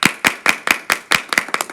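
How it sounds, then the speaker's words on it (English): Applause for a contestant in a competition. A few people clap in a clear, fairly even rhythm of about nine sharp, close claps over under two seconds, with no talking. "Give her a round of applause"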